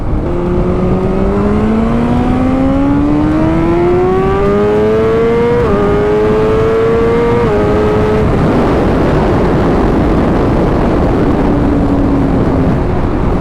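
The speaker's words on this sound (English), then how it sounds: "Yeah, we just did 60 to 130 and 448." A tuned 2020 BMW S1000RR sport motorcycle accelerates hard from 60 to 130, its engine note climbing through the revs with two quick gear-shift dips, heard loud and close over heavy wind rush.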